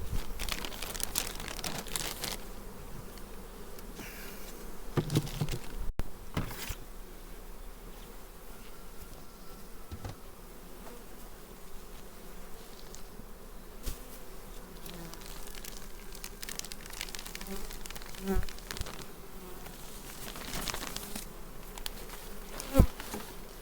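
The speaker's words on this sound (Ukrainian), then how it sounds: "Дивіться, скільки бджоли. Бджоли битком." Honeybees buzz continuously close by at a crowded hive, a dense hum of many insects, with occasional crinkling and rustling noises mixed in.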